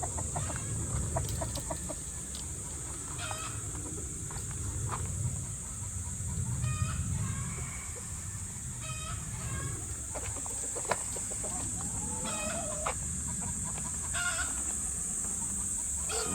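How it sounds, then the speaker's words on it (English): Chickens clucking and roosters calling around a yard where a Shibori/batik dye session is underway, scattered bird calls over a steady low rumble and a constant high hiss, fairly distant. "Some more chickens."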